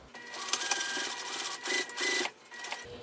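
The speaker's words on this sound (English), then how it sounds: "So now I'm going to sew all along these clipped edges with the seam allowance given the pattern, back stitching when I start and stop." A sewing machine stitches a fabric seam along clipped edges of a cosmetic pouch, running in a few close, steady mechanical bursts with short pauses between them.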